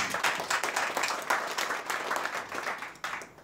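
Guests at a golf club's chairman inauguration ceremony giving a round of applause, dense clapping that swells and fades in waves over several seconds.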